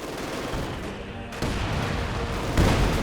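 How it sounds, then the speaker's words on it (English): Mortar and gunfire from a half-track in a Company of Heroes 2 match, steady rumbling battle noise with a heavier boom near the end, loud and continuous. "More mortar fire here from the half-track."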